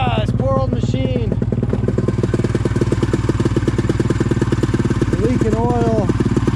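Old snowmobile engine running, apparently leaking oil and smoking, a loud, steady, rapid-firing close idle that goes on the whole time, with brief voice-like tones over it.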